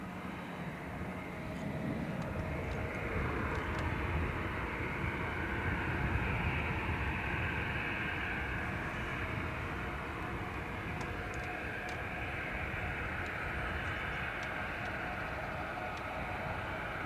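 An ATR turboprop at Dublin Airport gives a steady broadband rumble that comes in after a quiet start and holds at an even level, moderately distant with no talk.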